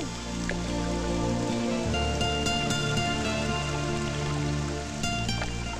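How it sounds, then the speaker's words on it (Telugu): Steady rain falls in a continuous soft wash with scattered drips, alongside a sustained musical background. "వర్షం ఇలాగే పడుతుంటే ఎంత బాగుంటుందో కదా"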